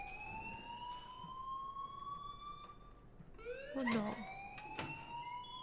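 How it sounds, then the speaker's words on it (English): In the video game Life Is Strange, an electronic alarm rings with steady rising tones that repeat and overlap, fairly quiet, while a voice speaks briefly. "please turn off that alarm since that's your job"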